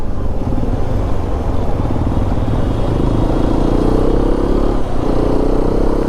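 A Hero XPulse 210 motorcycle is ridden steadily with a loud, continuous engine drone that rises in pitch midway as it pulls through the gears, with no talking.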